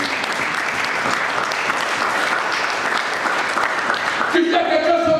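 A church congregation applauds and cheers together, a dense, loud wash of clapping that runs throughout, while a voice carries over it and a sustained tone rises near the end.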